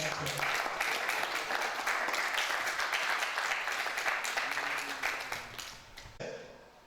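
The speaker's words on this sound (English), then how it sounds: "Please, a round of applause for the chairman." A sustained round of applause for the chairman at a polytechnic staff association capacity-building workshop, dense crowd clapping holding steady for about six seconds before fading out quickly.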